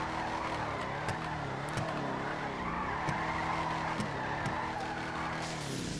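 Willard Faction car drifting in GTA Online, with a loud continuous tire squeal and skidding under a revving engine whose pitch dips and rises through the slides, punctuated by sharp clicks.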